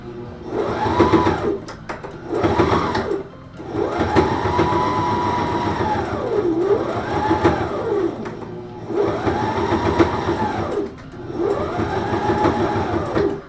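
A sewing machine stitches a passport case in several loud, close bursts of whirring needle action, separated by brief pauses, with no talk.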